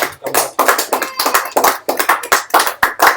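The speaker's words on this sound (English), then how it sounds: "Please give a round of applause to Tarun for sharing an important thing coming up" An audience claps in quick, uneven bursts, loud and close, with no voices over it.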